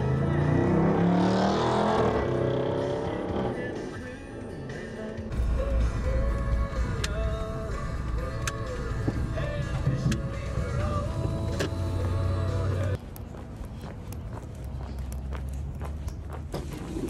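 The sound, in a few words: car driving on a very bumpy road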